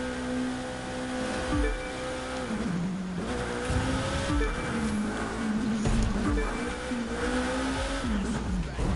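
A KTM race car engine howls in The Crew 2, its pitch repeatedly climbing and dropping through gear changes while tires occasionally squeal, loud and continuous.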